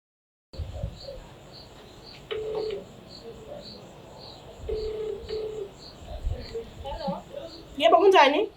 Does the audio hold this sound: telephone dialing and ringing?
yes